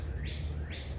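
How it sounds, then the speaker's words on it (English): Birds in a park along a walking trail sing two quick, bright chirps in succession, faint and somewhat distant over a steady low outdoor rumble. "the birds are singing"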